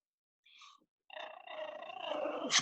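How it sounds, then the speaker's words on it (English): A dog gives a brief soft whine, then a longer throaty growl that rises into a rough vocal rumble, close and fairly quiet indoors. "The dog, what is she, hungry?"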